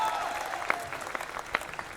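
An audience at the rap competition show The Next Level: RapStar claps for contestant JX: a short burst of steady, moderately faint applause with a few sharper individual claps.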